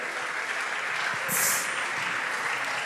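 Steady audience clapping at a teenagers' conference award announcement, a crowd applauding evenly throughout with a brief bright whistle or cheer rising in the middle.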